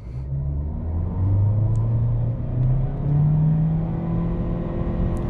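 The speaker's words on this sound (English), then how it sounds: "we're gonna start up in sport mode and do a quick 0 to 100" Toyota C-HR with a CVT launching from a standstill to 100 in sport mode, a steady droning engine rumble from inside the cabin that rises slowly and evenly in pitch, no talking.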